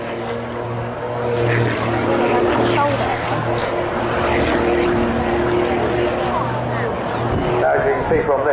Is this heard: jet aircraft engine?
yes